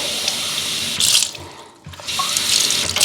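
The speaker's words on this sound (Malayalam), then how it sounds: "കുപ്പി നിറച്ച് വെള്ളം ഒഴിച്ച് വെച്ചാൽ നിറച്ച് വെള്ളമില്ല കുറച്ച് നിറച്ച് വെള്ളം ഒഴിക്കട്ടെ" Tap water runs and pours into a glass bottle being filled for growing a money plant cutting, a steady close rush that surges louder, dips briefly near the middle, then swells again.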